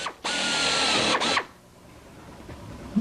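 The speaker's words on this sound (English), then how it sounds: "So we'll get started on the drilling." Power drill boring into RV-6 aircraft empennage parts: a loud whining spin of about a second, a brief pause, a short second burst, then quiet shop ambience and faint handling clicks.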